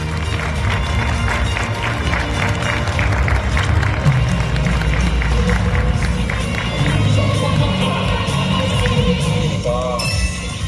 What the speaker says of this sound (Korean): 여러분 큰 박수로 환영해 주시길 바랍니다